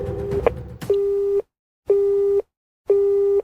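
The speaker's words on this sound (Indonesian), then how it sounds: "Amachi sudah memutus panggilan telepon tersebut." A telephone busy signal sounds after a call is hung up: three evenly spaced steady tone bursts, loud and close, following a brief clatter of handling at the start.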